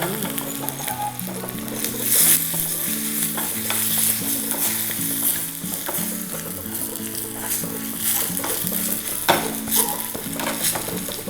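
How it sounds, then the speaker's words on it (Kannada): Dry red chillies sizzle in hot tempering oil, a steady bright crackle with occasional stirring scrapes that carries on without pause and with no talking. "ಇಲ್ಲಿ ಒಗ್ಗರಣೆಯಲ್ಲಿ ಒಣಮೆಣ್ಸಿನ್ಕಾಯನ್ನು"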